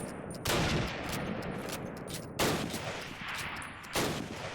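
Three sharp, loud sniper rifle shots ring out in the video game Call of Duty: United Offensive during a competitive match, each crack trailing into a long echoing decay, spaced about two seconds apart.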